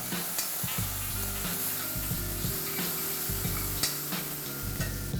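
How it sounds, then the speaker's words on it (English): Cumin seeds, ginger paste, garlic paste and chopped green chilies sizzle steadily in hot oil, a constant close frying hiss with occasional utensil scrapes as they are stirred, and no talking. "add a teaspoon of cumin seeds, a teaspoon of ginger paste, a teaspoon of garlic paste, and 3 chopped green chilies. Just let's saute this for a minute."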